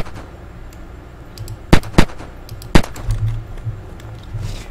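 Three sharp, loud rifle shots from the FAMAS-based Fusilaut in the video game Unturned, two in quick succession and one shortly after, ringing out close over a low rumbling background.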